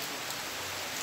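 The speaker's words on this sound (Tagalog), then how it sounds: "Umuulan dito." Steady rain falls outdoors in a hiss of broadband drops, even and continuous throughout the short stretch with no voices.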